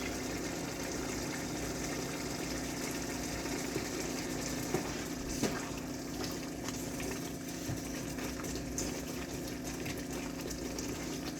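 Broth poured into a pot of bitter leaf sauce during cooking, a steady liquid gushing and bubbling sound that stays even and fairly quiet throughout, with no talking.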